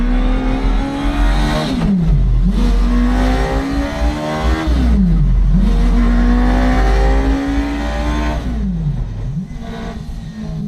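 A rear-wheel-drive Renault Twingo fitted with a Suzuki GSXR 1000 motorcycle engine drives on a cold, slippery surface, its engine loud and close, rising and dropping in repeated rev sweeps with shifts between pulls.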